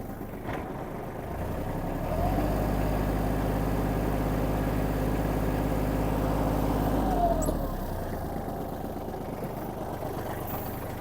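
A Kubota GL-29 Japanese mini tractor's small engine, with its rotary tiller engaged, revs up and holds a loud, steady drone for several seconds, then drops back to a lower idle.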